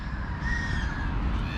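Crows cawing steadily over a busy outdoor scene on St. Nicholas Day in Germany or Switzerland, where birds gather for treats; the harsh calls repeat close and loud over constant background rumble.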